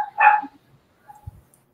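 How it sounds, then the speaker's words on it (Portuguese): A dog barks once, short and loud, then gives a few faint yips and a soft low thump in an otherwise quiet room. "O cachorro estava latindo muito alto."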